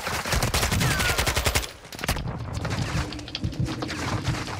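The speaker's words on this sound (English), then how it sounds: "I'm being shot, I'm gonna die." Rapid bursts of automatic gunfire crackle through a Modern Warfare (2022) battle royale match, with dense loud volleys that briefly let up before more shots resume.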